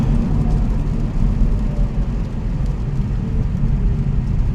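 Honda Civic Type R with its exhaust resonators deleted, giving a loud, steady low engine and exhaust drone that holds constant throughout with no talking.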